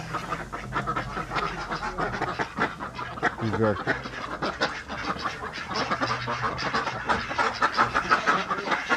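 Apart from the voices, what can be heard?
colorful ducks at a small animal show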